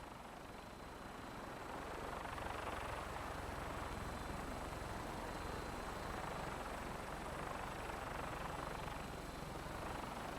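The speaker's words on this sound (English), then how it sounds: "When we land, Tinker's gonna keep the vertibird spooled for an immediate takeoff." A Vertibird aircraft in Fallout 4 hums with a steady rotor and engine drone, a continuous broadband whir that holds at an even level for the whole stretch, with no talk over it.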